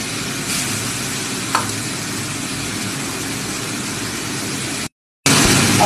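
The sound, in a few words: garlic paste sizzling as it is added to the pan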